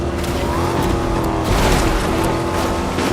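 Car driving in Fortnite, a loud continuous engine roar with tire noise that swells slightly midway, steady throughout with no clear speech.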